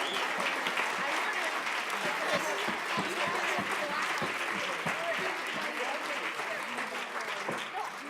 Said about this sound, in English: let's give them a round of applause for their efforts